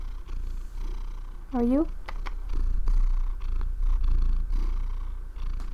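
A cat purrs close by in a room where pigment paint is made, with a brief meow early on, while a person talks throughout.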